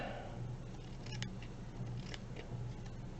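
Scissors snip around a paper shabby chic craft tag in a quiet room, giving several short, faint, crisp cuts spaced irregularly over a low background hush.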